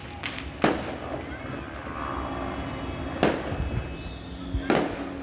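New Year's fireworks set off by a neighbouring community, heard as three sharp, loud bangs spaced a few seconds apart over a continuous background rumble and crackle.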